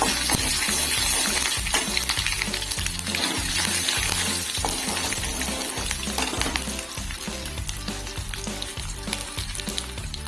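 Urad dal and mustard seeds fry in hot oil for Odia santula, a loud, dense, continuous sizzle with sharp crackles and pops running throughout.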